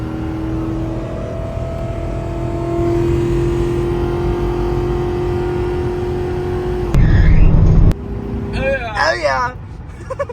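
A 2006 Ford Crown Victoria with a newly replaced water pump, its engine revving and droning steadily up close, followed by a burst of louder noise and excited voices talking over the idle.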